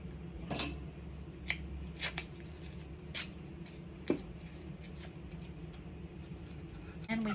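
Scissors cutting paper for a scrapbook page make a handful of quiet, sharp snips spaced irregularly over low background noise, with some paper handling between cuts.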